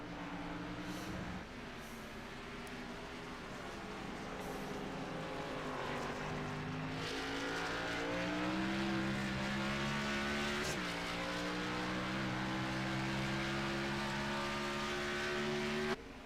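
Race cars circle Watkins Glen in a racing video game, with a continuous engine drone whose pitch climbs steadily through gear changes, fairly loud and with no talking.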